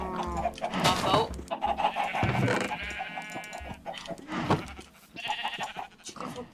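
Video game chickens cluck in a continuous loud chorus, mixed with other bleating farm-animal calls, up close and with no talk.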